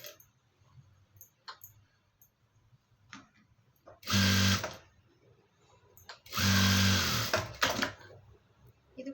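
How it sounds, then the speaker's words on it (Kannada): A sewing machine stitches fabric lining in two loud, close bursts of whirring motor, each about a second long. Quiet fabric handling and small clicks sound between the bursts. "ಸ್ಟಿಚ್ ಹಾಕೋಣ."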